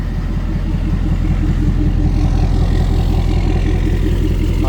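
Four-wheel-drive crawler truck with locked differentials, engine running loud and close with a steady low, pulsing rumble throughout.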